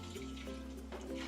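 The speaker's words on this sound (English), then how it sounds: "So I'm pouring the whole entire gallon of whole milk into the stock pot." A whole gallon of milk pours steadily into a stock pot in a kitchen, giving a short, continuous liquid gush with a low hum behind it.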